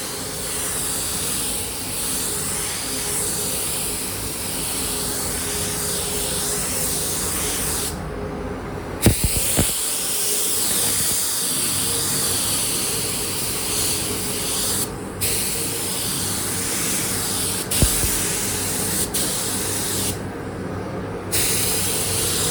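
Spray gun applying white paint to a Honda CBR900RR Fireblade SC28 motorcycle fairing, a steady close hiss running nearly continuously with two or three brief pauses between passes.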